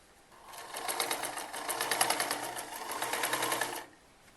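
A sewing machine stitches the back neckline of a kurti, close and clear, with one continuous run of rapid needle chatter that swells in and then stops abruptly.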